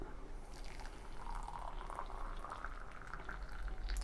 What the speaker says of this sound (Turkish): bu şekilde kaynamış suyumuzu koyduktan sonra su bardaklarının içine